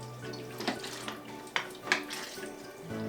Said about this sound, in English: what you're gonna want to do is agitate for the first 10 seconds 4 times